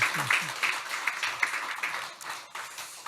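A church congregation gives a round of applause for the choir during Sunday worship, scattered clapping that swells and fades in uneven bursts.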